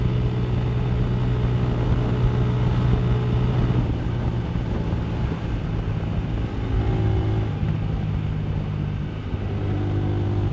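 A motorcycle exhaust rumbling continuously while riding, a steady close engine drone with slight shifts in pitch and no pauses.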